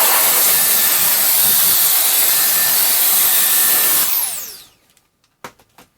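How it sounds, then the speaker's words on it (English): A small blower clears away a pencil-sharpening mess with a loud, close, steady hissing rush of air that winds down and cuts off, followed by a few faint handling taps. "Let's use our blower to clean up our mess here."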